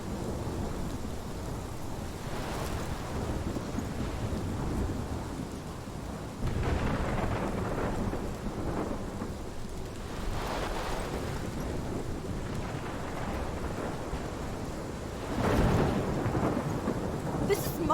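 Thunderstorm in the video game Life is Strange, steady heavy rain hissing throughout, with deep rolling thunder swelling several times, loudest near the end.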